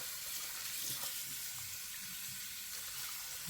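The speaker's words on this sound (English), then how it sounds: "Giving it a good rinse." Leeks are rinsed under a running kitchen tap, a steady faint hiss of flowing water with soft splashes as the vegetable moves through the stream.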